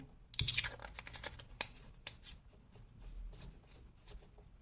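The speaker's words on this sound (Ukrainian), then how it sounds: "Закручуємо і вмикаємо." A Sofirn H25LR headlamp's cap is screwed on over a Samsung 35E battery, quiet close-up scratchy threading clicks and rubs with a few sharper ticks, no voices.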